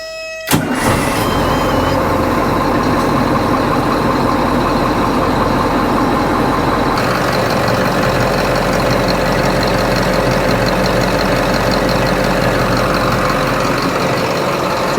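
An 8.2L Detroit Diesel boat engine cranks and catches, then settles into a loud, steady idle with a deep continuous rumble throughout.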